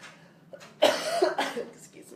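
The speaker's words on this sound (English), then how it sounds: "I didn't think I was going to have a coughing fit" A man coughs repeatedly in a short fit indoors, several harsh bursts clustered together with brief gaps, loud and close, as if during a live broadcast talk.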